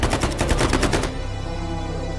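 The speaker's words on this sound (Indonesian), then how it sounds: "Hingga di suatu tempat mereka terpaksa melepaskan tembakan" Rapid bursts of automatic rifle fire from soldiers in the film The Covenant crackle loudly for about a second, then give way to a dense rumbling after-roar.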